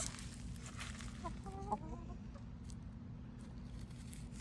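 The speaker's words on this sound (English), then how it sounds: "Hi, chickens." Soft chicken clucks, a few short calls around the middle, faint over a steady low hum and background noise.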